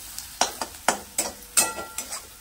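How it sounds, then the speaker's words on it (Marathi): Fresh coriander goes into hot tempering oil for dal, and a series of about seven separate crackling spits and pops comes through over a soft sizzle, close and moderately quiet, with no talking. "आता फोडणीमध्ये थोडीशी कोथिंबीर घालायची"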